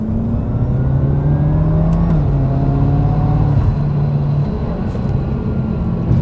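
A BMW F10 M5 accelerates hard in third gear, its engine a loud steady roar that climbs in pitch, heard close from inside the car.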